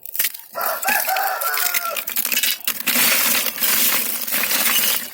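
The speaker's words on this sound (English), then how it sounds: "roosters are going crazy" Roosters crowing in a farmyard during oyster shell processing, loud and overlapping, with a rough crushing and crunching texture running alongside; no talk.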